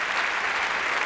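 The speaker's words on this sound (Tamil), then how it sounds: "நீங்க நல்ல ஒரு கைத்தட்டு கொடுங்க சார்." An audience at a festive Tamil debate event claps together in a dense, steady burst of applause heard briefly and fairly loud.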